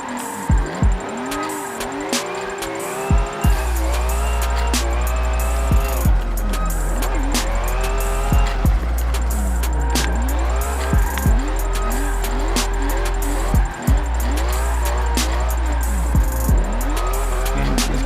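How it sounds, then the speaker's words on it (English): A drift car in Forza Motorsport 7 slides through corners, with repeated tire squeals over a loud, revving engine whose pitch rises and falls with each shift and throttle lift, continuous and up front. "I'm kind of half-ass drifting right now"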